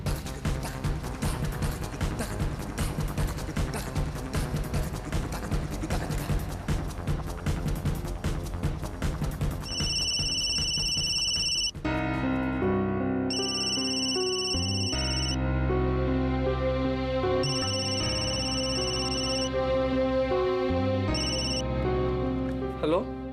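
A telephone rings out repeatedly in steady electronic bursts while a call is being placed in a Bengali TV serial scene, the ringing tones sitting over continuous background music.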